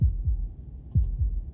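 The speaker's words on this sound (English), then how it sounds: "That was the sound of a heartbeat," Heartbeat effect from the video game Slay the Princess: two deep, close double thumps in a slow lub-dub rhythm, low and muffled, with no voices.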